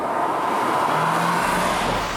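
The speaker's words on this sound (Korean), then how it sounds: "속도를 조금 내려서 다시 부드럽게 가속 페달을 밟아서 마일드하게 속도를 올려가고 있는데" A 2021 Renault Samsung QM6 SUV with a 2.0 LPe engine accelerates gently, a steady smooth engine hum under broad road and wind noise, rising slightly in pitch, close and continuous.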